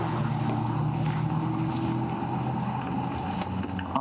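Gasoline drains from a fuel line into a bucket on an abandoned Mercedes W210, a steady close trickling and splashing rush that holds continuously without talk.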